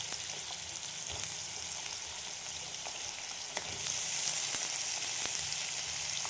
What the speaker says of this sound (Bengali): এগুলো আমি আলুগুলো ভেজে নেব